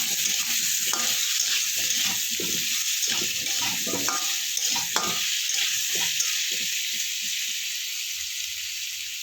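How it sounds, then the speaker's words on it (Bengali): Potatoes frying with turmeric and chili powder give a steady, close sizzle with scraping stirs of a spatula throughout, no voices. "একটু হলুদ আর একটু লঙ্কা গুঁড়ো দিয়ে আলুটাকে ভালো করে আমি একটু ভেজে নেব।"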